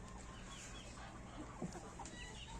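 Leghorn hens on a small farm cluck softly and intermittently, with a few short calls over a quiet background.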